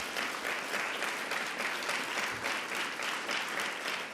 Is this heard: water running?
no